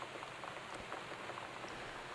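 Steady rain falling outside a house in the video game Gone Home, a soft continuous patter with no voices, fairly faint.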